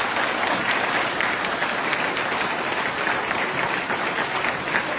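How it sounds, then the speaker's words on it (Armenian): A crowd of village residents gathered at a community event applauds, a dense, steady wash of clapping that holds at an even level throughout without voices. "ծափ տվեք տաքացեք"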